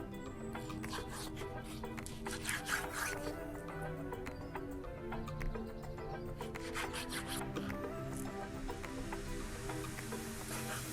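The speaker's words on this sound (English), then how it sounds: "Okay, so we're just gonna dice it up." A knife dices Scotch fillet steak with its fat left on, giving a steady run of close, scraping cuts and small clicks against a constant tonal background.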